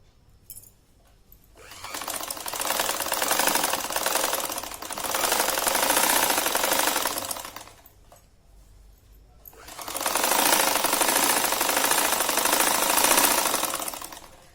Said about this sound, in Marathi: आता याच्यावर आपण सरळ शिलाई घेऊन घेऊ.